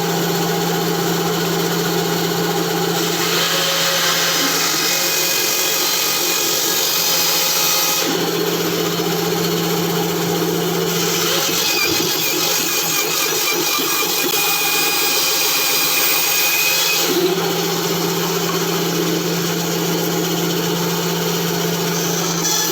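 A Hisimen 9-inch bandsaw cuts a tight curve through plantation teak. The loud, steady motor whine carries throughout, and the blade's cutting tone shifts and roughens in several distinct sections as the wood is fed through.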